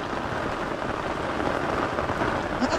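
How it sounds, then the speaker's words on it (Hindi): Steady, dense rain pours down as a continuous loud hiss with no breaks and no voices. "बारिश हो रहा है"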